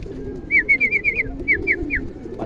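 A racing pigeon at its loft gives a short run of soft, rhythmic coos, close by and clear over a low background rumble.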